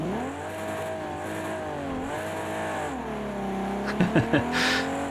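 Ferrari race car engine in the racing game Project Cars 2, a loud close howling drone that rises and dips through the gears, with a few sharp bursts near the end.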